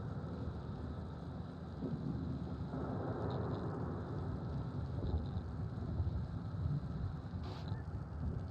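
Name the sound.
thunderstorm raging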